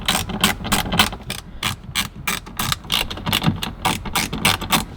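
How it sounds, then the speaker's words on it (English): Rapid ratchet clicks from a small hex driver backing out 2mm Allen bolts on the interior trim of a Ferrari F430, a steady run of close, crisp, evenly spaced ticks with brief pauses, no talking. "So we got to unscrew these 4 little Allen 2mm bolts."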